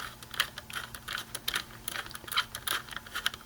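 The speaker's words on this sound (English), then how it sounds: "I'll use my small screwdriver for this" A small ratcheting screwdriver works screws while a failing hard drive is swapped for an SSD in an HP Envy gaming PC, giving a rapid, close series of light ratchet clicks in uneven bursts over a faint steady hum.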